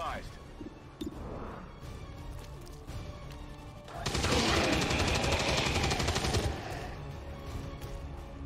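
Automatic weapon fire in the tactical game XCOM 2: War of the Chosen, a loud sustained burst of rapid shots for a few seconds with scattered impacts before and after, while a voice talks throughout.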